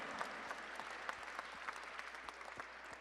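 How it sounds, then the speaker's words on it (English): A gala audience in New York City applauds steadily and at a moderate distance, a continuous wash of clapping hands with no voices standing out. "Keep that applause going."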